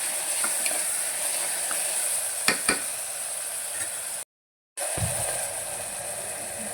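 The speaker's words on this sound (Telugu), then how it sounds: "ఉల్లిగడ్డ బాగా మగ్గాలండి ఉల్లిగడ్డ వేసుకుంటేనే ఈ మటన్ కీమాక్ అనేది చాలా బాగుంటుందండి" Chopped onions sizzle and fry steadily in a hot pan for mutton keema with spinach, a continuous close hiss with a few stirring clicks and one brief dropout.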